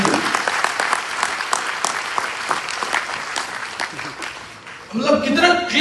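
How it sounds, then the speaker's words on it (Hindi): An audience at a leadership talk claps in a dense, steady burst of applause that gradually fades, then someone speaks at the end. "जोरदार ताली"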